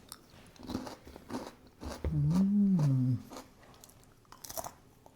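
Close, crisp crunching as almond bark candy with M&Ms is bitten and chewed, a few sharp crackles in bursts with a brief low hum in the middle.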